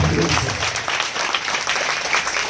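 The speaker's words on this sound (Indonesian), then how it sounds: "Beri tepuk tangan yang meriah." Children at a church revival service clapping together, dense, lively applause that is loud and close, mixed with a voice speaking over it.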